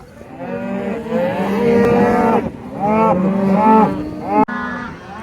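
Cattle on a Kansas farm bawl loudly while calves are separated from their mothers, a crowd of long overlapping moos with several animals calling at once and nearly no break between calls.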